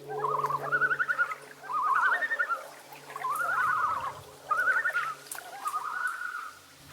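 A series of warbling, wavering loon calls rising and falling in repeated phrases, fairly clear against a quiet background with a low hum beneath.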